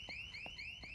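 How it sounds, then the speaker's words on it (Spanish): An alarm in Dead Island 2 sounds continuously, a rapid repeating rising electronic whoop with soft pulsing thuds underneath, steady and moderately loud. "Se puede apagar la alarma con un fusible."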